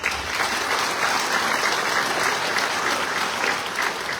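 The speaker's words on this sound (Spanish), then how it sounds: "Recibimos con fuertes aplausos a la diputada federal Irma Juan Carlos" An audience at an awards ceremony for Indigenous, Afro-Mexican and multicultural communities in Oaxaca applauds to welcome a federal deputy, a dense, sustained burst of many hands clapping at a steady level.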